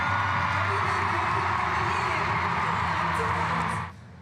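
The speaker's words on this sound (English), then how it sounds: "Just listen to this ovation." A stadium crowd at the Olympic Stadium roars in a sustained ovation for the Matildas' farewell football match and a veteran's likely last game. Dense, loud cheering and whoops hold steady for nearly four seconds before dropping away suddenly.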